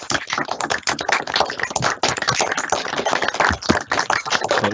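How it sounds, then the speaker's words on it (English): Virtual applause at an online Perth & Kinross Council meeting, many participants clapping over unmuted microphones: a dense, continuous patter of claps with a thin, band-limited, tinny quality, steady and loud. "join me in a virtual round of applause to Keith McNamara"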